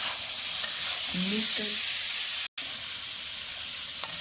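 Cumin potatoes with green coriander sizzle steadily in a pan during stirring for zeera aloo, a close, even frying hiss with a brief dropout partway through.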